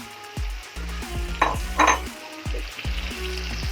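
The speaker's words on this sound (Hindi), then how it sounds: "ग्राइंड किया हुआ पालक डाल देंगे।" Ground spinach for palak paneer hits a hot pan and sizzles loudly, with clinks of a utensil stirring against the pan in uneven bursts.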